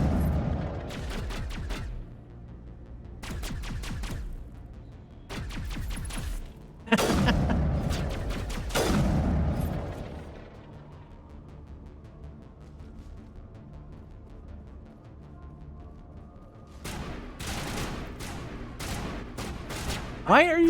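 Gunfire in the Mass Effect video game, several rapid bursts of automatic shots in clusters, loud and sharp, with a heavy blast partway through, then a lull before more firing returns at the end.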